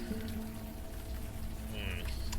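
Steady pouring rain in the Unavowed adventure game, a dense continuous hiss at moderate level with a low hum beneath and faint tones over it, with no voices.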